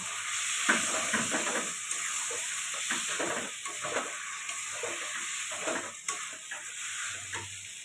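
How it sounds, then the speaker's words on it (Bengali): Marinated mutton sautéing in a pan, giving a steady close hiss of sizzling with repeated scraping strokes as the meat is stirred and turned. "খাসি মাংসটা সব মাখিয়ে রেখেছিলাম এটা দিয়ে দিলাম এবার এটা ভালো করে কষাতে থাকবো"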